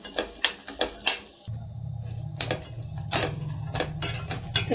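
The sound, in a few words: dry fruits and pistachios crackling while roasting in oil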